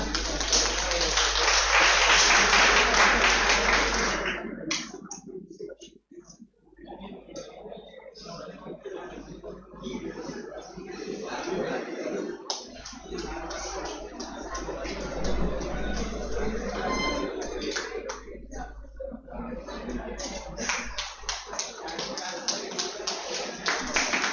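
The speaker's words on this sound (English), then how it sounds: "A huge round of applause," Audience applause and clapping at a hackathon inauguration ceremony. The clapping is loudest and densest at the start, then falls away into a room of murmuring voices and scattered claps that carry on to the end.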